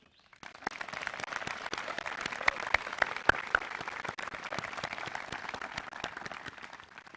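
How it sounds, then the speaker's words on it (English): At a high school graduation ceremony, a large audience gives the graduating class a long, even round of applause heard from a distance, with a few sharper claps standing out near the middle. "I want us to give a round of applause to our graduating class and everyone who helped them"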